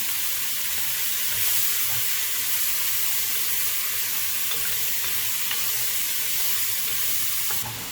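Garlic sautés over medium heat in a pot alongside vegetables for pot roast, a constant moderate sizzle with occasional soft stirring clicks and no voices.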